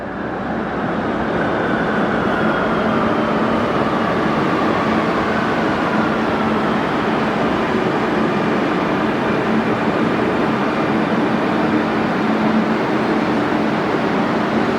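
A metro train rushes past on its line, a loud, continuous, broadband rumble and roar that stays steady throughout, with a faint high tonal whine running over it.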